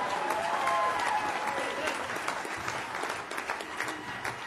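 A political audience at a California Republican gathering applauds steadily, a dense wash of clapping that holds at an even level from start to finish with a faint murmur of crowd underneath.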